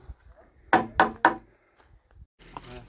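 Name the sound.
knocking on a thick wooden door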